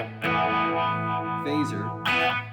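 Electric guitar played through a pedal with typical chorus settings, sustained shimmering chords with a wavering, doubled tone, close and fairly loud with a brief pause between strums.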